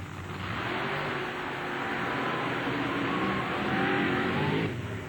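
Drag racing cars creep into the staging lights at an NMRO meet in Lima, a steady loud engine drone filling the whole stretch with slight swells in revving, no voices over it.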